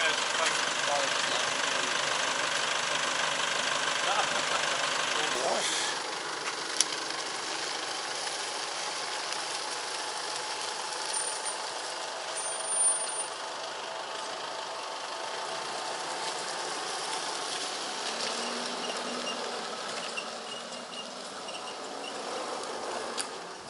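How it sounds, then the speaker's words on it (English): An ambulance engine idles steadily in the background at a motorcycle crash scene while insects chirp constantly, with faint voices now and then. "Oh, the ambulance."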